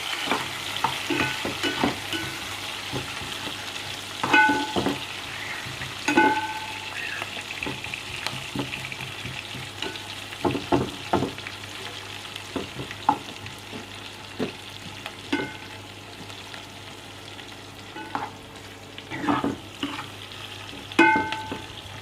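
Onions browning in a pan for baingan bharta, a continuous sizzle with frequent scraping stirs and clinks of a spoon against the metal.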